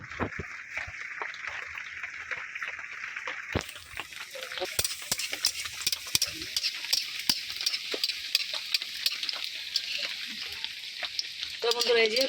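Luchi deep-frying in oil on a stove, a bright bubbling sizzle that swells louder when the dough goes in, with light clicks from handling, close and continuous.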